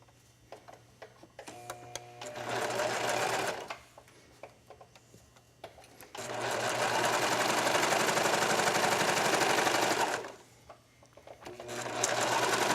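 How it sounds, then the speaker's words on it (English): A sewing machine runs in three bursts, a short one, a long one and a final one, as it stitches the side seam of a tank top, with quiet pauses and faint handling sounds between the runs. "we're going to stitch down the side seam."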